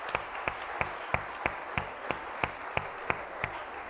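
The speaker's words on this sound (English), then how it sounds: "So let's hear for each one of them a big round of applause." Audience at an education festival session on urban farming clapping in a slow, regular unison rhythm, about three claps per second, steady and moderately close over a soft background hum.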